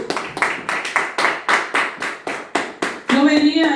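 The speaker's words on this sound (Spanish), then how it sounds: "Dale un aplauso a Cristo." Congregation clapping hands in rhythmic bursts at a church service, loud and close, about a dozen steady claps before a raised voice breaks in at the end.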